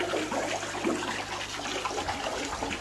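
Water in a shrimp tank is stirred and agitated, giving a continuous close sloshing and gurgling wash with no speech, holding steady for a few seconds.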